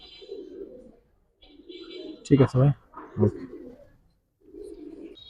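Giribaz pigeons coo softly in short bursts, and someone speaks briefly between the calls.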